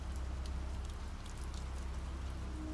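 Rain falls steadily on cobblestone streets, a dense, even hiss and patter at moderate level with no talk.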